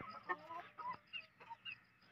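Chickens and young chicks in a Pakistani village cluck softly in short scattered bursts, faint and close, with no talk.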